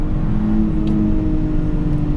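A BMW E46 with a 3.46 differential accelerating in second gear around 25 mph at about 3,000 RPM, a steady low engine drone with a rising harmonic whine, heard from inside the car.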